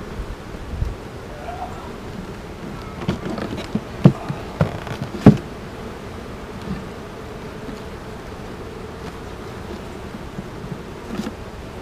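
Honey bees drone in a low, continuous hum close by, with a few sharp knocks and taps partway through against a quiet outdoor background.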